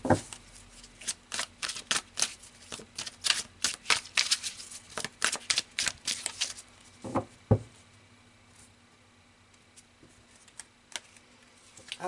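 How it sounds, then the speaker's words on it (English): Tarot cards are shuffled in quick, crisp riffling bursts at close range, then a few separate cards are pulled and set down with soft taps before a quiet pause. "let's pull a few more cards here"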